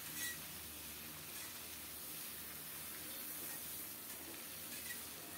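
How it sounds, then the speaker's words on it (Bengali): Potatoes and pointed gourd fry in a pan, giving a steady, faint hiss and sizzle that carries on evenly with no talking. "খুব সুন্দর মতো আলু আর পটল ভাজা হয়ে গেছে"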